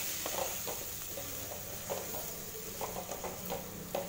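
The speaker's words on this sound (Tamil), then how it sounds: "உருளைக்கிழங்கும் முருங்கைக்காயும் சேர்த்துட்டு நல்லா மசாலாவோட கலந்து விட்டுருங்க" Potatoes and drumstick pieces are stirred into masala in a pan, giving soft repeated scraping and stirring strokes over a low sizzle, close and steady with no talking.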